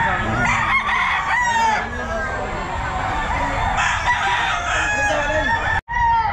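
Roosters crow repeatedly over clucking chickens at a busy pet market in Bocaue, the calls overlapping and loud, with vendors' voices mixed into the noisy scene.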